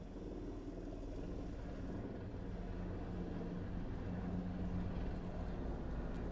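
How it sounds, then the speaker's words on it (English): A steady low rumble like a helicopter droning somewhere outside, constant and muffled throughout with no talk. "sound like I got a helicopter outside"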